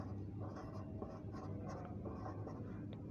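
Chalk or marker scratches faintly on a board in a classroom during a physics lecture on resistance, with soft irregular strokes over a low background hum.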